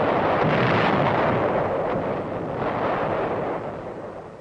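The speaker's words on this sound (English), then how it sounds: "The sound of shells going over can be a mighty friendly sound." Heavy artillery in combat fires as a deep rolling roar of shells and blasts, loud and sustained, slowly fading toward the end, with no voices.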